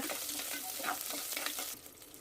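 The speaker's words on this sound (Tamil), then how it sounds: "10 சின்ன வெங்காயம் நல்லா கட் பண்ணி எடுத்துருக்கேன். அதையும் இதோட சேர்த்து நம்ம வதக்கிக்கலாம்." Chopped small onions sauté in oil for sambar, giving a dense, close sizzle with stirring scrapes that drops off near the end. No one speaks.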